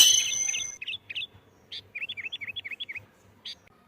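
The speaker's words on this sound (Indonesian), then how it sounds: "Suara burung Pak terenggane dan tadi semua ya suara burung" A bird chirps in quick bursts, a few calls followed by a rapid run of repeated tweets, clear and fairly close over a quiet background.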